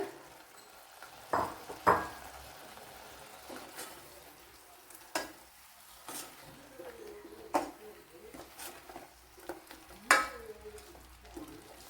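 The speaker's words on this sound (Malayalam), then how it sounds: "ഇതിലേക്ക് ഇനി നെല്ലിക്ക ഇട്ട് കൊടുക്കാം" Indian gooseberries (nellikka) sizzle softly in a pan while a spoon stirs and scrapes, with a series of sharp clinks against the metal over a low frying hiss.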